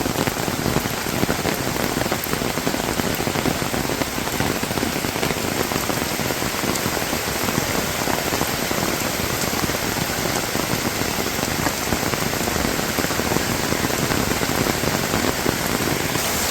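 Heavy rain pours down steadily, a dense, loud, unbroken hiss of drops hitting surfaces with no voices.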